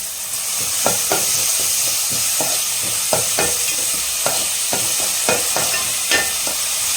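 Green mutton tikka masala sautéing in a pan with rock salt, a loud continuous sizzle broken by frequent clicks and scrapes of a spoon stirring against the pan.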